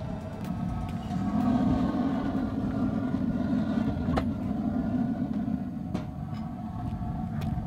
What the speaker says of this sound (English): Those torches are working.